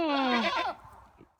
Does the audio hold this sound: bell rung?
no